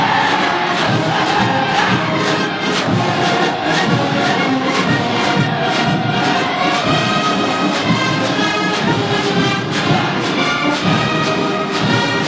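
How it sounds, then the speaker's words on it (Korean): A massed crowd of marching soldiers roars and cheers continuously at a North Korean military parade, a loud, dense, sustained chorus of voices with no pauses throughout. "김철주 포병중앙공관학교의 열병정대들이 위대한 선군영장 김종일 선군님을 우러러 극정의 환호를 거치며 힘차게 나아갑니다."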